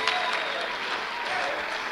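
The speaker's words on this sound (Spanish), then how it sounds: "Alguien déle un fuerte aplauso al Señor." Congregation in an evangelical church service giving a strong round of applause, brief and steady, with crowd voices mixed into the clapping.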